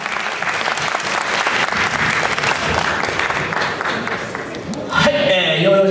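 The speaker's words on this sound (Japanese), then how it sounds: "改めて大きな拍手をお願いいたします。" An audience at a yo-yo stage showcase at the 2013 Japan Nationals applauds loudly and continuously, dense clapping filling the hall, with music swelling in near the end.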